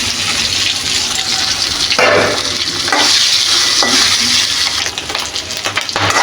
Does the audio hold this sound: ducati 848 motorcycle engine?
no